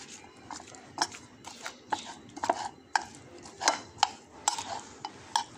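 Coleslaw ingredients are mixed by hand in a bowl, making soft, irregular clicks and wet rustles at close range, with a few sharper knocks against the dish.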